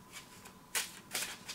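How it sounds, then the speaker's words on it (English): A deck of playing cards being shuffled at a poker night table, two quick riffling bursts standing out close and clear over a quiet room. "Shuffle the deck."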